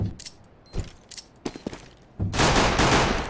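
A few scattered gunshots crack in a Counter-Strike match, spaced apart at first, then give way to a loud, dense wash of rapid fire and noise for the final second.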